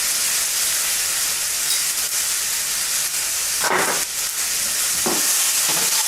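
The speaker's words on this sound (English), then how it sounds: "Stir it up, stir it well. The pineapple will also be roasted in here." Pineapple being stirred and roasted in an electric cooker gives a steady loud sizzle and hiss throughout, with a few brief scraping bursts from stirring.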